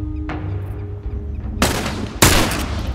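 Rifle gunfire in The Last of Us video game: a faint shot followed by two loud, sharp, close reports about half a second apart, each with a trailing echo over a low ambient rumble.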